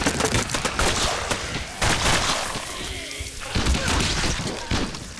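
Bursts of rapid gunfire in the zombie shooter game Dead Raid crackle loudly in dense volleys, pausing briefly between flurries, with heavy impacts mixed in.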